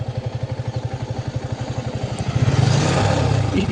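A Yamaha R15 motorcycle engine pulses steadily at idle nearby, then swells into a louder, rougher rev toward the end.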